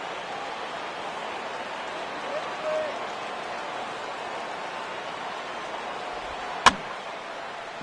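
Bat strikes a ball foul at a Memphis Redbirds at Storm Chasers minor league baseball game, a single sharp crack heard distantly over steady crowd murmur and stadium noise.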